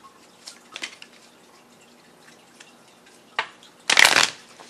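Oracle lesson cards are shuffled close by, a few soft riffles followed by a louder, longer burst of card shuffling, with no talking.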